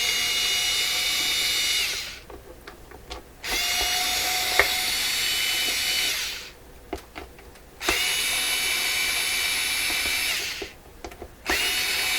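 A power screwdriver backs screws out of a Toshiba RC-803F clock radio in three long whirring bursts, each stopping with brief clicks and rattles of the loosened screw between runs, close and loud.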